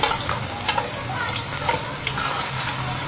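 Chopped onions, about 200 grams, frying in 100 grams of hot ghee for a chicken balti gosht: a dense, steady, loud sizzle with crackling and faint stirring, close and continuous, no voices.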